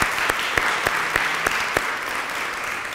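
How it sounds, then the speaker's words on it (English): A room of people at a lunchtime lecture on embroidered samplers gives a brief round of applause for sponsors, a soft, steady patter of clapping with a few sharper claps standing out. "Can we have a round of applause for those folks?"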